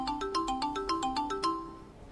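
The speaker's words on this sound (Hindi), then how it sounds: "सर आपका फोन आ रहा है।" A bright electronic phone ringtone plays a repeating melodic pattern of short tones, fairly close and clear, with no talking.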